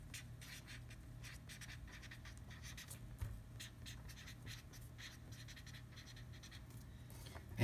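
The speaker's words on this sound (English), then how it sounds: "First step is write down your name so I know who you are." Pen writing a name on a sheet of paper, a steady run of soft scratchy strokes in short bursts, close and quiet over a faint low background hum.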